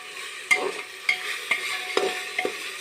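Masala rice with salt being stir-fried in a pan, a soft background sizzle broken by about five evenly spaced scrapes and knocks of the spatula, with no talking.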